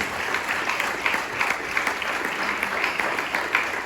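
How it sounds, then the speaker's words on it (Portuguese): Church congregation applauding during a Portuguese-language sermon, a steady wash of many hands clapping throughout, fairly loud and continuous with no voices on top. "Você pode aplaudir esse Deus?"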